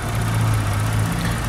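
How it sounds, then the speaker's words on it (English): A 3.5-liter V6 engine in a 2007 Ford Edge SE SUV idles smoothly with a steady low hum and even vibration, close by and uninterrupted. "Six-cylinder V6 engine, absolutely purring like brand new"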